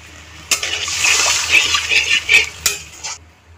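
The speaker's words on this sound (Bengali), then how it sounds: "কষানো হয়ে গিয়েছে, দিয়ে দেবো 1 বাটির মতো জল" About a bowlful of water is poured into a pan of duck egg curry after the spices are fried down, giving a splashing, bubbling rush with a couple of sharp metallic knocks against the pan.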